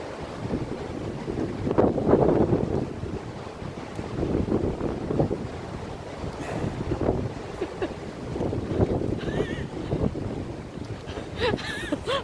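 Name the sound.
strong wind blowing on the microphone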